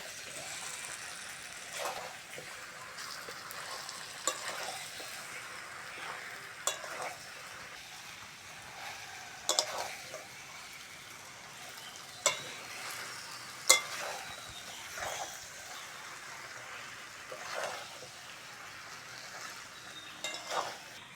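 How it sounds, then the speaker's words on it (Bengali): Chicken curry with cut, washed potatoes stirred in a pan, a soft steady frying sizzle beneath repeated sharp clacks and scrapes of a spoon against the pot, close and without talk. "এবার কেটে ধুয়ে রাখা আলুগুলো দিয়ে দেবো।"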